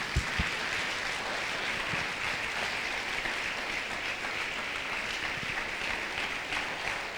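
A church congregation claps for the Lord, a soft, steady wash of applause heard at a distance with a few sharper claps near the start.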